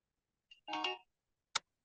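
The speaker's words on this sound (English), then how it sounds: "I'm getting a phone call." Short electronic phone ringtone chirp for an incoming call, one brief tonal burst followed by a sharp click-like blip after a pause, fairly faint with no talking.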